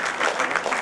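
Dense burst of audience clapping at a literary gathering, a steady wash of many hands throughout the short moment.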